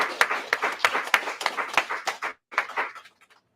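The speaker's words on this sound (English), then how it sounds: "So I would like to applaud them." A small group claps at a police press conference, a few distinct close hand claps in quick irregular succession that thin out and stop after about three seconds.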